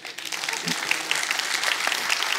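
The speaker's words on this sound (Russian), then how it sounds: "Давайте аплодисменты" A church congregation applauds, a dense, steady burst of many hands clapping close by, with a voice briefly heard at the start.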